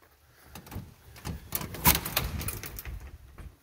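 The front door of a newly bought house opens with a series of soft clunks and a brief latch-like rattle, close by and fairly quiet, with no talking.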